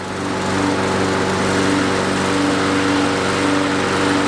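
A lawn mower engine with a newly replaced carburetor runs steadily and smoothly, a loud, close, even drone with a constant pitch and no talking.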